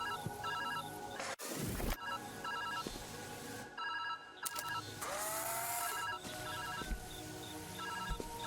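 A telephone rings in the puzzle game Viewfinder with repeated bright electronic ring bursts over a game soundscape, interrupted by sharp whooshing and crashing effects.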